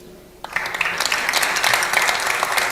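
An audience at a Casablanca conference on city cleanliness breaks into applause to welcome the Wali, starting abruptly after a quiet moment and building into steady, dense clapping.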